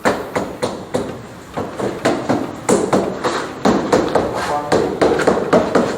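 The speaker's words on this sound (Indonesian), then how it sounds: "sambil pakai palu keramik coba" A ceramic mallet taps repeatedly against a wall panel during installation of plaster-free wall sheets, a fast series of sharp knocks close by with some talk mixed in.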